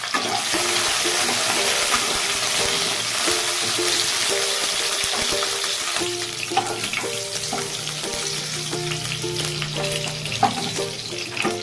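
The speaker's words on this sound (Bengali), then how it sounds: "এবার দিয়ে দেবো পটলগুলো। এগুলো একটু ভাজতে সময় লাগে" Pointed gourd (potol) frying in hot oil in a pan, a steady, dense sizzle with crackling pops and occasional stirring scrapes running the whole time, close and fairly loud with no talking.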